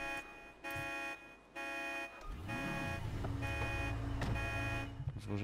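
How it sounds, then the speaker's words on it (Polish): A car alarm in Grand Theft Auto V, a steady pulsing electronic tone cycling on and off, followed by a rising engine rumble and a continuous blaring wail at moderate volume. "no wyłącz te alarmy"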